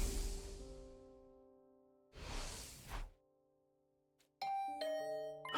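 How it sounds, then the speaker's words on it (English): Doorbell chime in the video game The Hundred Line, a clear ding-dong tone ringing out alone after soft whooshing swells, then a brighter melodic chime sequence near the end. "Was that my doorbell?"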